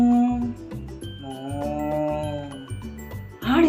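A voice imitates a cow mooing for a baby, one long, low, sustained moo swelling in the middle, set against a thumping, repetitive children's music backing, with a brief higher vocal burst at the end.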